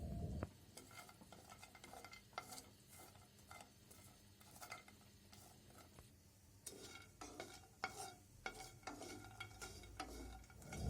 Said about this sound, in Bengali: কিছুক্ষণ লাল লাল করে এটা ভেজে নেব।